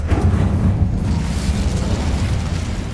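Incendio fire spell cast in Hogwarts Legacy, a loud, sustained fiery whoosh and rumble with a heavy low-end roar running steadily through the whole moment, no pauses.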